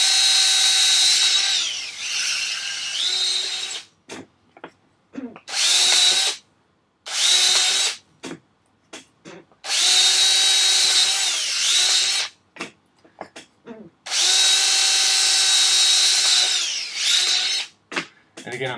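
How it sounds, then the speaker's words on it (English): A power drill whirs in several bursts of a few seconds each, loud and close, with short pauses and small clatters between runs. "So I'm just drilling some holes."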